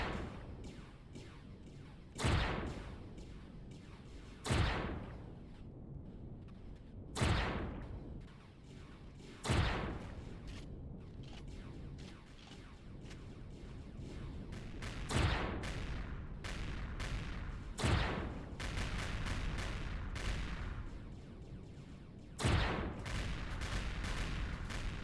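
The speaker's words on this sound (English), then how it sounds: "Oh, yep, he's shooting." Gunfire from a guardian in Empyrion: Reforged Eden 2, with separate heavy booming shots every few seconds over a continuous low rumble of combat.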